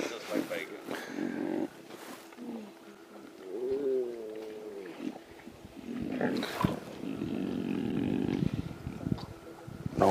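Lion roaring on a sunrise safari drive, with low rumbling calls rising and falling amid background speech and vehicle noise, moderately near.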